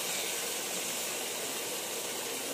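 Marinated chicken pieces frying in a little oil over low heat, a steady, even sizzling hiss close up with no talk.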